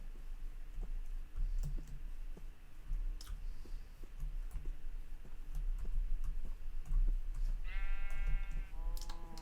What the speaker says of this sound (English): Hey sheep, where'd you come from?